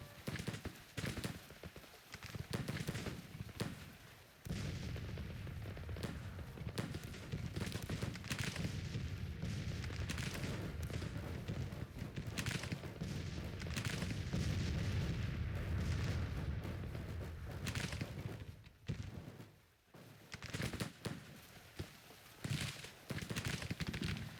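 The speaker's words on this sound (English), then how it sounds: "Those cannons are devastating me." Cannon artillery fire in a Civil War strategy battle, Grand Tactician, with repeated heavy booms and crackling musket volleys sounding continuously over a dense battlefield din for the whole stretch.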